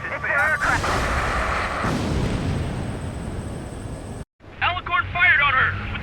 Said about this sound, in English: Main guns commence fire.